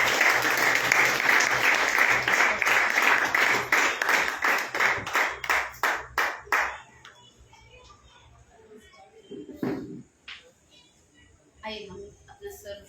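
Audience applause at a Good Friday church service, a loud sustained crowd clapping that breaks into fading scattered claps before a lone voice speaks.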